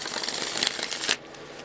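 Tarot cards being shuffled by hand in a steady papery riffle that runs for about a second before stopping abruptly, close and clear with no talking.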